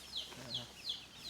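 Chicks in a tribal village in the Bankura forest give a quick series of about four thin, high peeps at regular intervals, fairly close, over a soft outdoor background.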